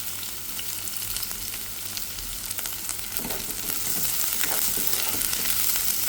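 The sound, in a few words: sautéing onion and green chilli in oil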